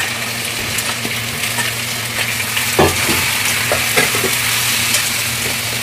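Pointed gourd and jackfruit seeds frying in a pan with turmeric and salt to follow: a steady, loud, close sizzle throughout, with occasional scraping stirs and a few soft knocks.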